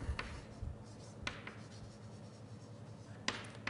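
Chalk or marker scratching across a board during an algebraic geometry lecture, a few brief strokes at intervals over a faint, quiet room background.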